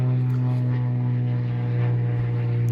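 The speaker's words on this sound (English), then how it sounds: "Wait till the plane goes by." Propeller airplane passing overhead, a loud steady droning engine hum that holds level throughout, with no talk.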